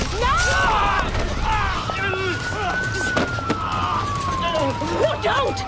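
A police car siren wails and sweeps in pitch as it approaches, loud and close, while people shout urgently over it.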